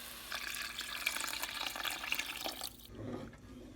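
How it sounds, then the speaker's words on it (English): Tamarind water pours into a cooking pan for Kerala rasam, a steady splashing stream for nearly three seconds before it stops and the liquid settles with a softer, lower gurgle. "add the tamarind water"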